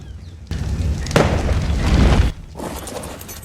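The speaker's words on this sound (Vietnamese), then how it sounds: "Wow, anh ta còn bắn cả pháo hoa lên trời nữa." Fireworks launch into the sky in the Ark survival video game, heard as a few heavy booming bursts with crackling tails, separated by short quiet gaps.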